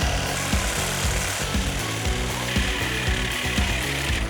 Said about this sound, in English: I think the Sawzall's gonna work better.